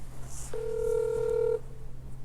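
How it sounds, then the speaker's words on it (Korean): A single steady telephone tone, likely a dialing or ringback signal, sounds for about a second during a live phone connection at a Korean book talk event, alone over faint room hum. "전화 연결을 해보는 시간을 가지도록"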